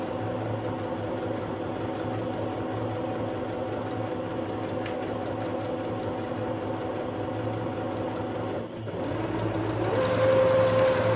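A Singer Curvy smart sewing machine stitches steadily with a fast, even mechanical whir, pausing briefly near the end before restarting at a higher speed with a thin motor whine.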